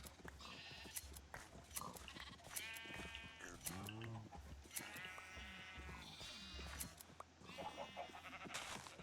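Sheep bleating in Minecraft, modded version 1.7.10, on a farm with many chickens nearby; several wavering bleats come and go over a busy, steady background, moderately loud with no talking.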